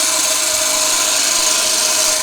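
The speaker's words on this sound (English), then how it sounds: "Just slicing the timber away, making a nice clean finish." A skew chisel slices timber on a wood lathe while a table lamp is turned, giving a steady, loud, hissing cut with a faint underlying tone and no pauses.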